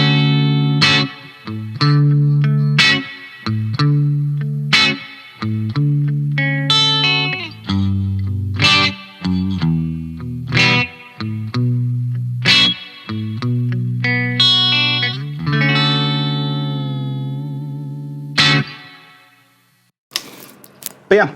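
A Fender electric guitar with its pickups coil-split plays a run of clean, bright chords and single notes with short gaps between phrases, ending in a long ringing note that fades out before a brief final strum.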